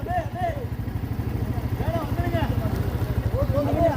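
A vehicle engine drones steadily on the Charmadi Ghat road, its throbbing low rumble holding close and fairly loud while people talk over it throughout.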